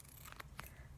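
Scissors cut duct tape for a homemade wallet with two or three quick, soft snips close by in a quiet room.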